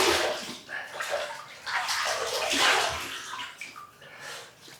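After a wet shave, water splashes and rushes steadily as a face is rinsed at a basin, close and continuous with uneven sloshing surges.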